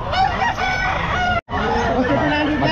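Several gamefowl roosters crow loudly and close by at an outdoor pet market in Calumpit, Philippines, overlapping, with a brief gap, amid clucking and lively crowd chatter.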